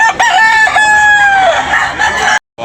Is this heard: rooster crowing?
yes